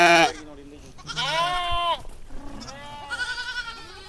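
Herd of sheep bleating in a rural grazing setting, several overlapping calls near the microphone, a few long wavering bleats with short pauses between.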